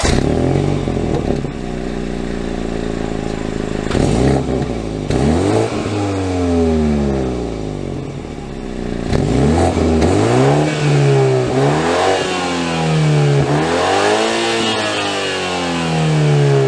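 A 2022 BMW X3 engine revs up repeatedly as it pulls away and accelerates in Provo, its loud, close drone climbing in pitch and dropping back with each gear change.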